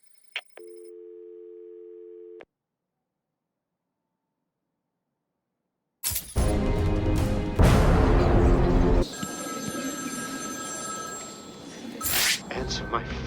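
A short telephone tone sounds alone, cuts off into silence, and then loud crashing, clattering game action takes over in Batman: Arkham City, a video game.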